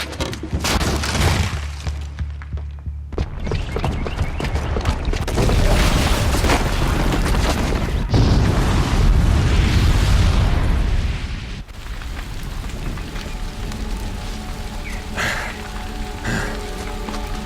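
A booby-trapped bomb in Horizon Zero Dawn goes off in a loud, sustained roar of explosion and rumbling debris that dies down into a rain-like crackle and hiss of falling rubble.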